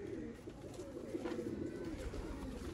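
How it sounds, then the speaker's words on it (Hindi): Sialkoti rooftop pigeons with clear eyes coo in a steady, low murmur that runs continuously and fairly close, with no voices over it. "ये हैं जी दोस्तों साफ आंख के सियालकोटी छत वाले कबूतर।"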